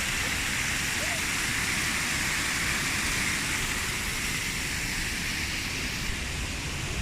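A large waterfall at the Birks of Aberfeldy roars as a constant broadband rush, loud and close, unbroken throughout with no voices on top.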